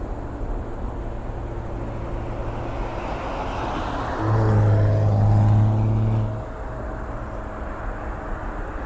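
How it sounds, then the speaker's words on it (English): An MD-11 jet landing at Toronto airport: a steady engine roar carries through the whole stretch and swells for about two seconds midway before settling back to a constant distant drone. "Touchdown. And there we have the MD-11."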